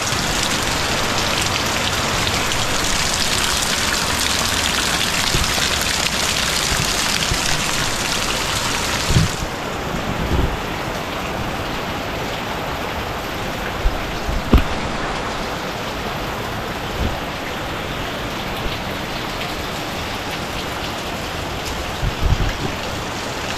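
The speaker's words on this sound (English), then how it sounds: "All this rain." Steady rain pours down in a dense, even hiss, with occasional louder drips and patters landing close by.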